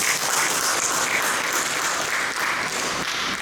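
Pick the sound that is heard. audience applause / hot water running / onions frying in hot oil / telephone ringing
audience applause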